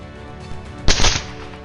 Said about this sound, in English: gunfire erupted, sweeping through the beasts in rapid bursts